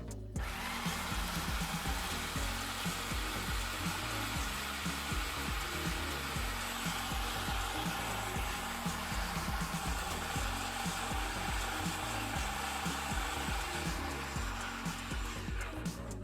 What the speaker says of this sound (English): we're going to put the machine on and let it run until you start seeing the oils come out of the nuts